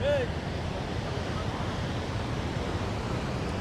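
Sea surf rolls in at Puri beach as a steady broadband roar of breaking waves, mixed with wind buffeting the microphone; a faint whistle-like tone briefly rises at the start before the wash carries on evenly.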